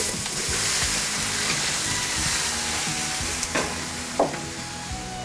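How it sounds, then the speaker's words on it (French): Fish and onions sautéing together in a pan in a restaurant kitchen in Antibes give a steady, close, dense sizzle, with a couple of brief clinks near the end. "On fait encore revenir donc le poisson, en même temps que les oignons"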